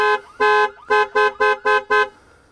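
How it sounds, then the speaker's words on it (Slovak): A car alarm blares nearby in a loud, repeating pattern of about seven sharp electronic honks, fading out at the end. "a máme spustený alarm"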